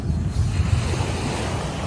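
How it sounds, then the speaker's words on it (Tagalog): Ocean waves washing on a seashore at Santa Mercedes, Maragondon, a continuous rushing surf with wind buffeting the microphone, no voices. "Nandito kami sa tabing dagat."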